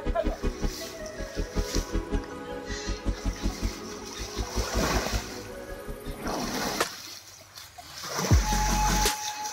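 Water is poured and splashed repeatedly while someone bathes in a village home, in quick rhythmic bursts, then a heavier rush of water near the end.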